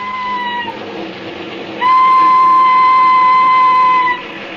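Train sound effect from a 1947 radio drama, a rolling railway rumble under a loud sustained steam whistle that blows for a couple of seconds before fading back into the running train.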